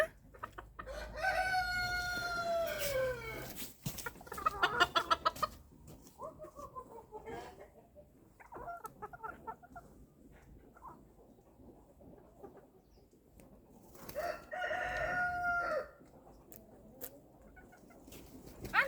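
Hens cluck and a rooster crows loudly in a farmyard. Bursts of crowing come near the start and again later, with softer clucking between and a few quiet sounds of people moving about.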